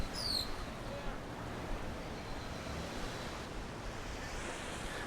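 Ocean surf rolling onto sandy Akumal Beach, Mexico, in the early morning: a steady, broad wash of waves with some wind noise on the microphone, continuous and fairly distant.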